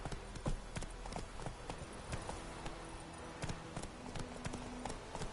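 Horse hooves clip-clopping at a quick, irregular gait in The Witcher 3: Wild Hunt, faint and close, with a soft ambient bed under the steps.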